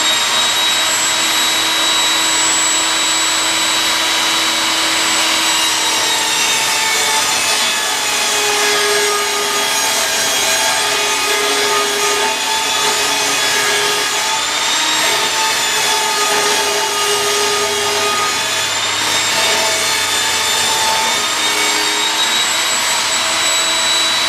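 A power saw rips lengthwise through a sheet of plywood, a loud continuous whining roar with a high pitched tone that holds steady throughout, with no voices.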